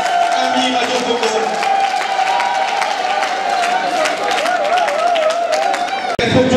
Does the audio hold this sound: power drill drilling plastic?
no